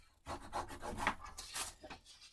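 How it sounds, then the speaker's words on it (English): Paper being burnished on a Valentine's pop-up mini album, a dry rubbing and rasping that comes in close, steady strokes for about two seconds with no talk over it. "burnishing everything now"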